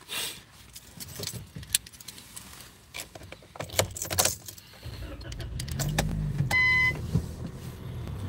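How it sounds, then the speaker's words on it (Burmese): Keys jangle, then a car engine starts and idles with a rising rumble as the vehicle begins to move, with a brief electronic beep near the end. "ကျွန်တော်ကားလေးတစ်ချက်ရွှေ့မယ်"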